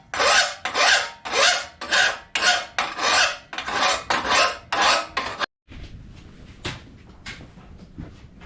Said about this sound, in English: hit it with a file or a flap disc